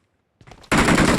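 Gunfire in the mobile game BGMI: a few faint shots lead into a sudden loud, dense burst of automatic fire that continues to the end.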